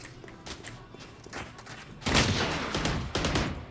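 Bursts of gunfire in Valorant crack out in a quick volley, faint at first and then louder and denser halfway through, mixed with footstep-like thuds and no talking.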